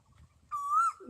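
An Asian koel gives a single clear, rising whistled call, fairly close and distinct over a quiet background.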